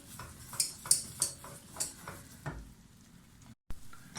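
Sauce being stirred in a pot for lasagne, with a utensil scraping and clinking against the pot in a steady rhythm of close, bright strokes, fading near the end.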